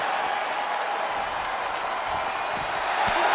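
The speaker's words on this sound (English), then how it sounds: "The sound of this crowd is deafening, and he's asking for more." Crowd at a live pro wrestling event roaring in a dense, steady wash of cheering and noise that holds loud and unbroken throughout.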